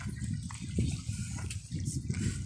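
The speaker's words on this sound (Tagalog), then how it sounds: "Ay, ang sarap marinig ng tubig. Oo, ang ano ng alon." Sea water at the Alkhobar corniche in Saudi Arabia, soft splashing and lapping against the shore, faint and close with irregular gushes.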